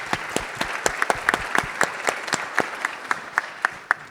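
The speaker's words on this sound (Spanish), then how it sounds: "Un aplauso para la arquitecta Romina de Juana." Applause from a crowd at a panel discussion on ventilated facades, continuous clapping with sharp individual claps standing out, steady and fairly close, no speech.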